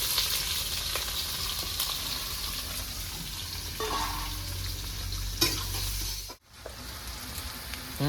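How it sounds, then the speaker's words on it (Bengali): Chopped onions frying in hot oil with dried red chillies and whole cumin, a steady close sizzle with occasional stirring scrapes and a brief clatter before a short dip near the end. "তো বন্ধুরা পেঁয়াজটা আমার ভাজা হয়ে গেছে"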